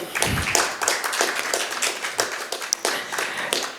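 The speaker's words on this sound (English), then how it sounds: "A huge round of applause." An audience at a real estate funds conference claps: dense, steady applause from many hands that fills the room and continues without pause, heard close and fairly loud.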